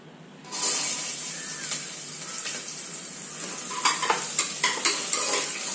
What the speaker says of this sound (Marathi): आता ह्यामध्ये मी टाकणार आहे कांदा।